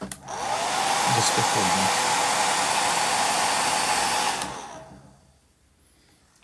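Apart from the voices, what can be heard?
hair dryer blowing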